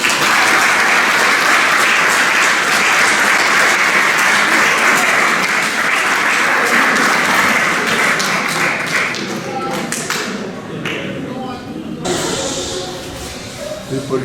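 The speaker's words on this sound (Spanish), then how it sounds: "le damos otro fuerte aplauso a Antonio" A crowd at a ceremony gives Antonio Gómez loud, sustained applause that fades over the final seconds, with voices beginning to talk as it thins.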